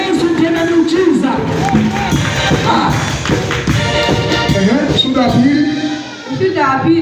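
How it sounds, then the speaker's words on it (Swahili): A church congregation claps and cheers with shouts and whoops, a dense, loud burst of applause that mixes with voices and some thumps, easing briefly near the end. "Makofi mazuri kabisa kwa Yesu"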